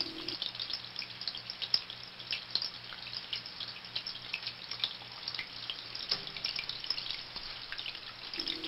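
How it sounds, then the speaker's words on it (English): Water trickling and dripping steadily from a charcoal canister into an aquarium tank, a soft continuous flow with light splashy drips close by and no talking. "It flows in from a charcoal canister that removes any chlorine before it hits the tank."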